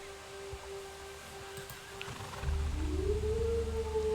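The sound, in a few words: wolf howl in the video game Star Stable Online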